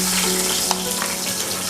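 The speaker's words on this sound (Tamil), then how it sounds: "இப்போ வெங்காயத்தை நல்லா வதக்கிக்கலாம்." Onions sautéing in a pan for chicken dum biryani give a steady, close, dense frying sizzle with a faint tap near the middle, with no talking.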